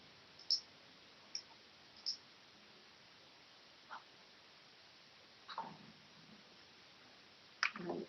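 Computer mouse clicks during accounting software work, a handful of sharp, sparse, quiet clicks spread out over several seconds against near silence, with a faint rustle.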